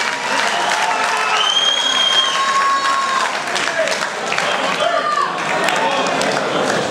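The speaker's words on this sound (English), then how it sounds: "Guys, big round of applause." A theatre audience applauds loudly, a dense, even wash of many hands clapping mixed with crowd voices and a few whoops, steady throughout.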